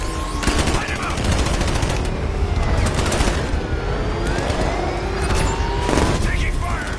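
Rapid automatic gunfire and bursts of shots rattle continuously through a Batman: Arkham Knight game scene, loud and dense over a rumbling background with scattered impacts.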